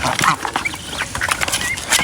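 Geese and ducks, including Chinese and Pekin ducks, call on a poultry farm, with several overlapping quacks and honks scattered close by over a continuous background of birds.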